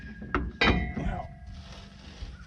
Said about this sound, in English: Turn it with a ratchet.